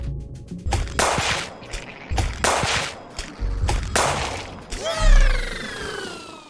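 Several loud gunshots from Krill's gun in the video game Another Crab's Treasure, fired in a rhythmic sequence of sharp, booming blasts about every second, the last one followed by a ringing, whistling tail.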